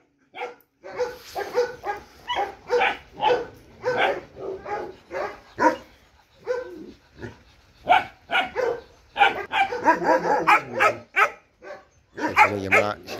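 A Malinois puppy barks and yips repeatedly in quick, uneven bursts, close and loud, with a few whimpering notes and no talk over it.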